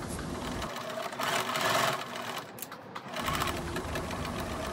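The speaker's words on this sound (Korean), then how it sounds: "큰 칼라에 점선으로 표시한 부분을 박음질을 합니다" A sewing machine stitches along a marked line on a large shirt collar, running in close, fast mechanical rattling bursts with brief pauses and speed changes between them.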